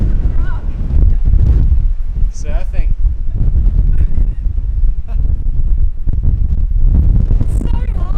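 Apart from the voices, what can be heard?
strong wind blowing outdoors in the bush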